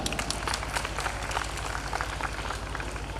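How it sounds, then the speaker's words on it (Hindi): Applause from an audience at a workshop opening at Arya Kanya Mahavidyalaya, a steady dense patter of hand clapping with no break, fairly loud and close. "मैं चाहूंगा इनके लिए आप लोग एक जोरदार तालियां बजाएं।"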